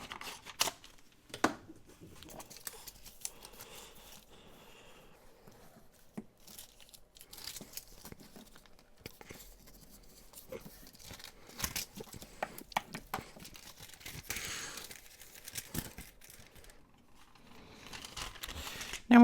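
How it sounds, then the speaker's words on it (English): Paper from a junk mail envelope crinkles and rustles in close, irregular bursts as it is handled and folded, with short crisp crackles separated by quiet pauses. "I think I'll fold a little piece of it around, but I'm not going to fold it all"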